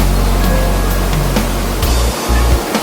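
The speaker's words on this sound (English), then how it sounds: "you must walk behind this waterfall" Roaring, steady rush of Cavern Cascade waterfall in Watkins Glen Gorge, heard up close and loud with continuous broadband water noise throughout and no talking.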